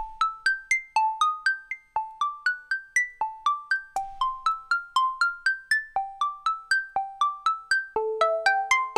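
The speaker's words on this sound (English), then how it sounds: "I took those chords that I used for the main part and I threw an arpeggiator on it and then just recorded the output of the Tetra onto the track" A Dave Smith Tetra analog synth plays an arpeggiated chord pattern of quick plucked notes in a steady rhythm, clean and alone, its pitches stepping through changing chords.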